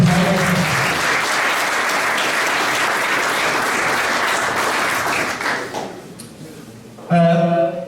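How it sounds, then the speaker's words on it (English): Sustained, loud audience applause fills most of the moment, then fades and gives way to someone speaking. "If you want to give him a big clap"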